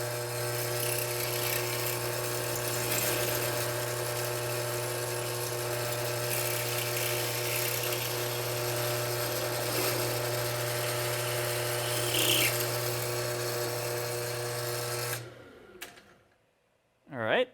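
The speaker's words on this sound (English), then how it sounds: "make sure that your holes are in the space on your vise so you don't drill into your vise" Power drill boring holes through a workpiece clamped in a vise during model superstructure building, a steady loud whine with a strong low hum that runs continuously before cutting off abruptly near the end.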